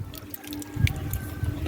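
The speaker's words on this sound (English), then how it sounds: "I'm going to add a little more water to it" Water is poured into a pot of simmering oxtail in a Jamaican home kitchen, a short splashing trickle with faint bubbling, close and moderately quiet, with no talk.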